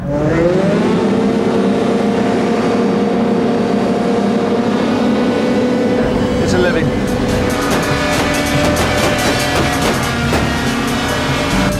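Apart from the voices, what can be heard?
hovercraft engine roar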